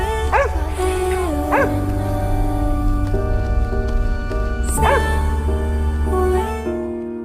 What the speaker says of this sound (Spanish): El perro se apresuró a acudir al lado del hombre, ladrando sin parar